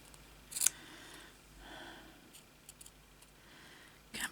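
Scissors snip through fabric for a slow-stitch journal cover, giving a few faint, close, crisp cuts with quiet pauses between them and no voices.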